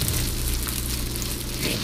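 Shrimp and fish sizzle steadily on a hot teppanyaki griddle, a close, dense frying hiss that continues without a break and with no talking.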